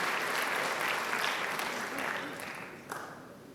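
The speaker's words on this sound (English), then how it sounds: "Graduating class, can you give your grandparents a very big round of applause, please?" A graduating class at a Class of 2024 graduation ceremony applauds their grandparents, a steady, fairly distant wash of many hands clapping that tapers off slightly toward the end.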